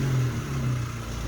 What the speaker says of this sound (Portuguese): Aqui eu desligo o difusor e acelero o carro.